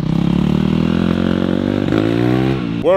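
A dirt bike engine running with the choke still on, loud and close, holding a steady droning idle that rises slightly in pitch, then a quick sharp rev at the end.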